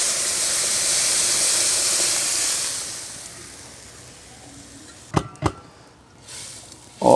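Cooked, softened lentils tipped into frying masala in a pan: a loud steady hiss of sizzling fades gradually, followed by a few sharp clanks of a spoon against the pot.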